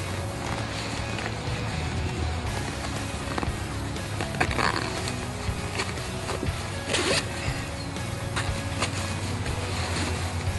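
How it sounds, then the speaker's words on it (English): A zip-in bottom shelf inside an Eberlestock Operator backpack is unzipped, giving long scratchy zipper runs with rustling fabric, close and steady, with a few sharper pulls standing out partway through. "So what I can do is take and unzip all this."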